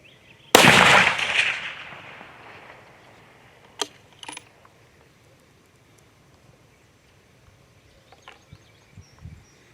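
A single loud, sharp shot from a 7mm Remington SAUM rifle with a decaying outdoor echo, followed by faint metallic clicks and clinks of the action being worked.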